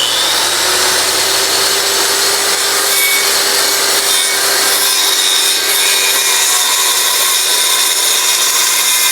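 Close, steady hand sanding of a timber frame wood joint, a continuous bright abrasive rasp with a faint hum underneath, with no pauses.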